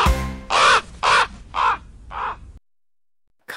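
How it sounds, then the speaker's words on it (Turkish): A crow caws four times in a steady, evenly spaced series, loud and close, then a pause of silence with the start of another sound at the end. "Karga karga gak dedi"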